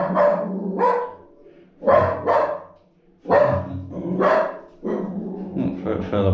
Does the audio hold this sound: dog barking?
yes